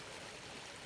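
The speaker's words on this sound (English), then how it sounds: "here's this little stream. It goes down to" A small stream flowing along a forest trail in Pennsylvania in October, a steady broadband rush of running water, close and constant for a brief moment with no voices.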